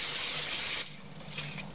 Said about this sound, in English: I'm spraying some hot vegetable oil in my hot pan.